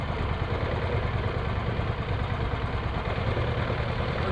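A Thai longtail mud motor fitted with an 8.5 inch Hurricane prop idles at about 1100 RPM, a steady, unbroken engine drone with a low rumble and no voices.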